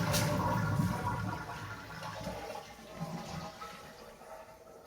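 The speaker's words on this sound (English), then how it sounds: "we're gonna flush the toilet" A toilet flushes during winterization of a cabin's plumbing, with a burst of rushing water that settles into a lower gurgling refill, fairly faint and close by, with no talking.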